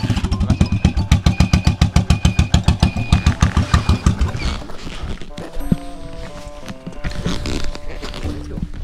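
A chopper-customised Yamaha SR400 single-cylinder motorcycle fires up close by, with strong, even thumping pulses that blur into a rougher idle. Music or voices come in over it later.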